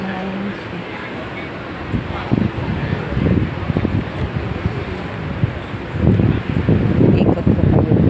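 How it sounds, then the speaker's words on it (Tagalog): Wind gusts across an outdoor hangout spot in Aberdeen, a steady rushing roar with stronger buffeting surges that hit the microphone. "Mahangin."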